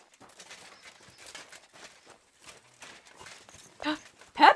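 A horse's hooves clip-clop at a steady walking rhythm in the medieval game Kingdom Come: Deliverance II, with the hoofbeats growing louder and closer toward the end.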